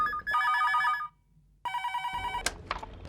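A telephone rings in an office scene, two long electronic trills separated by a short pause, loud and clear, followed by a brief click and other small sounds.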